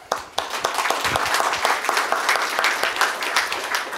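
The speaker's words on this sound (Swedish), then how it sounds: "En varm applåd." Warm applause from the audience at a Swedish seminar on space strategy for military capability and civilian use, a dense, steady patter of many hands clapping throughout, fairly loud and close.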